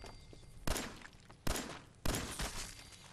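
Three sharp pistol shots in the Fallout 4 video game, spaced about 0.7 seconds apart, each loud and close with a short ringing tail, over a faint steady background.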